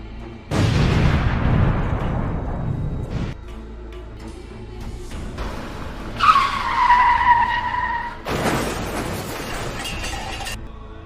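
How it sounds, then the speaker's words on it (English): Highway crash as a cement tanker crushes a car, a loud crunching impact and grinding debris, then screeching and another burst of crashing noise, all close and harsh. "A couple in China experienced the terrifying moment their car was completely crushed by a cement tanker."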